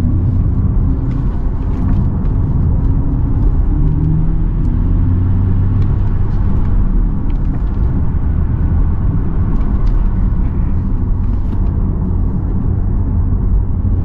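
Audi RS e-tron GT electric car driving in dynamic mode, heard from inside the cabin as a steady, loud low rumble and road roar with a faint shift in tone as it changes gear at low speed.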